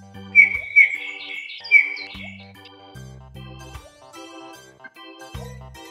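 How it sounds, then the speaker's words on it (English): A bullfinch sings a few short, soft whistled calls near the start, then pauses while low, steady tones from background music carry on. "Bullfinch."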